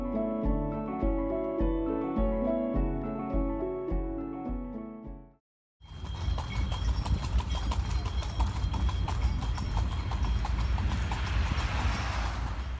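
A horse-drawn carriage rolls through Marrakech toward a rooftop dinner, its hooves clip-clopping in a steady rhythm amid busy street ambience, following a stretch of loud music and a brief silence.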